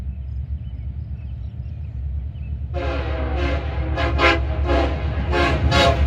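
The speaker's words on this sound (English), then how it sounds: "He's putting on a horn show for us." A Union Pacific locomotive leading a westbound intermodal train sounds its horn in a series of loud blasts over the low, constant rumble of the passing train.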